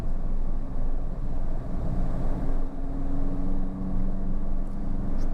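From inside a car on a driving lesson, the engine hums low and steady as it pulls away after a gear change, with a faint rising tone and constant road rumble.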